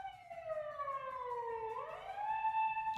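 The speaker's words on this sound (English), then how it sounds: "Ambulance running around here every night." An ambulance siren passes outside at night, its wailing tone sliding steadily down and then rising again, heard at a moderate distance through a quiet room.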